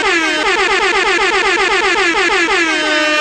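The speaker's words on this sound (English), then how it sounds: "My air horn ain't loud enough" A loud air horn blares in a rapid, repeating pulsing pattern, continuous and close for a few seconds.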